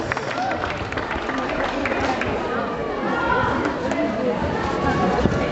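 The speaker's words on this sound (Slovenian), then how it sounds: "Še en aplavz za najboljše, Tjaša Sledenšek, Brina Pilc in Janja Garbrec." Spectators at a climbing competition applaud the winners, with dense, continuous clapping mixed with crowd chatter from a large room.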